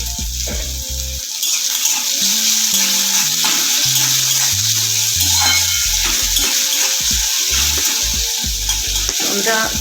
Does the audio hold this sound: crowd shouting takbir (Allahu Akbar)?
no